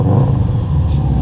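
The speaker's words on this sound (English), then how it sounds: "Give it a rev." An EK Civic engine revs loudly and close, a steady low rumbling roar that lasts a little over a second.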